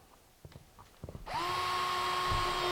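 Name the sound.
power drill drilling pilot hole through laminate into subfloor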